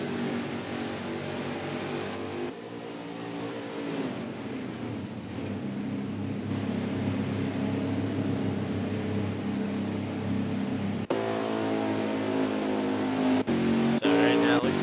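Race cars roaring around Talladega Superspeedway in a racing video game, a sustained loud engine drone with shifting pitch as cars pass, while a voice talks over it throughout.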